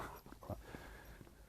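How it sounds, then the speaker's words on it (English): A dog whimpers faintly outdoors near a river in winter, with a few soft, brief whines and sniffs over quiet ambient background noise. "There's a doggy."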